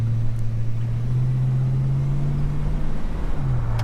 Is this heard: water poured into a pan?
no